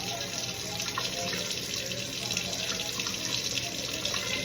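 Salmon is rinsed under a running kitchen tap, a continuous close hiss and splash of water with no pauses, heard alone.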